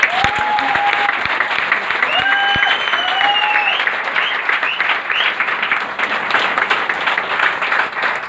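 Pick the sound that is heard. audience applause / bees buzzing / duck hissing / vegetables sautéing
audience applause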